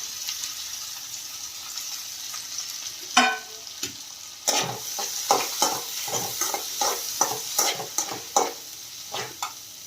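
Thinly sliced onions and a tomato hitting hot oil in a pan, a soft sizzle broken by a string of sharp stirring scrapes and clatters, close and fairly loud, with no talking.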